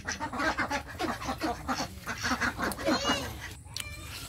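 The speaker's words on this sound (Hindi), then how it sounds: "ये आ गई सारी बतखें।" A flock of ducks quacking busily and continuously, fairly close, with overlapping calls and some rustling; no voices.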